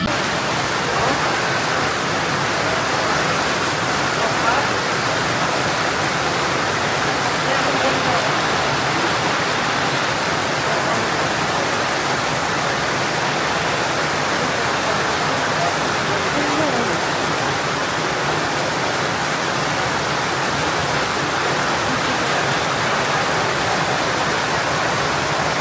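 Heavy rain pours down in Nepal, a dense, constant hiss that stays loud and even throughout with no pauses.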